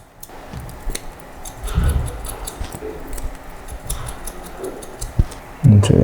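Scissors snip repeatedly while point cutting and thinning medium-length hair, giving a series of close, light, crisp ticks at an uneven pace, with brief rustling between cuts.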